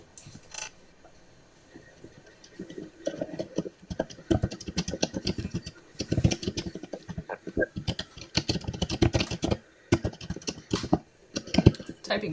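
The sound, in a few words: loud typing on a computer keyboard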